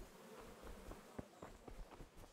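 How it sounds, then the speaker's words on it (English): Bees buzzing in the medieval role-playing game Kingdom Come: Deliverance, a soft low drone with faint flickering wingbeats, quiet and without speech. "But no, it's just bees."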